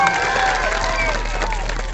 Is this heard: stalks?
no